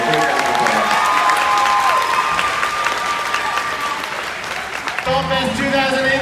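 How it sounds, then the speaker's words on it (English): Loud, sustained applause from a festival audience at YALLFest 2018 fills the whole stretch, with cheering and shouts mixed in and voices carrying over the clapping. "they all deserve a great round of applause"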